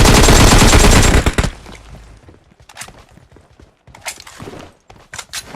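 Groza rifle gunfire in the game PUBG Mobile: a loud, rapid automatic burst followed by scattered sharper shots and small movement sounds, with no talking.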